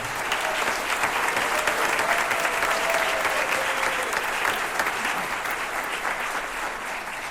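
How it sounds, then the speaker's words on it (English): An audience applauds an alto saxophonist at a school jazz band holiday concert, dense even clapping from many people sustained at a steady loudness for several seconds. "So let's give him a round of applause."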